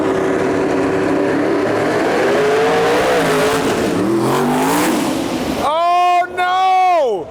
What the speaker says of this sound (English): Got Brent Albury, far side of the track there, the Nitrous Corvette.